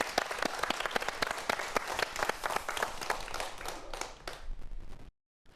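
Audience applause for a lecturer at a Korean science talk, a dense burst of many hands clapping that holds steady and then thins out before stopping abruptly.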